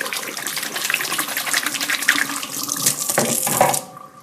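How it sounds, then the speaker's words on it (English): A kitchen tap runs loudly and continuously into a sink as hands are washed after handling raw fish. The water splashes unevenly before the flow cuts off near the end. "I'm going to wash my hands off real quick."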